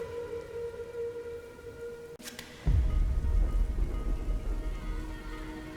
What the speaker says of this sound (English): Christy versus Helena in the rain.